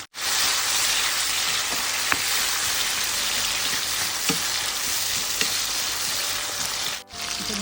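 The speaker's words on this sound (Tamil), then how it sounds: "இது நறுக்கி வச்சு 2 தக்காளி பழத்தை சேர்க்குறோம்." Chopped tomatoes frying in oil in a pan for radish sambar, a continuous loud crackling sizzle with sporadic pops and spatula taps, with a brief dip near the end, no voices.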